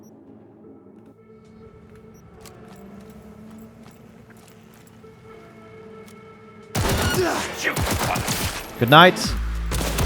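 Bursts of gunfire from new weapons in the video game Cyberpunk 2077, loud rapid shots erupting after a quiet stretch of low ambience, with a brief spoken line in the game.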